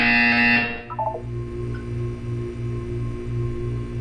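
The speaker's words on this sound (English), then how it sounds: "You will hear a buzzer." Buzzer in the Portal video game: a loud tone at the start, then a few short descending beeps, over a low repeating hum with a faint high whine.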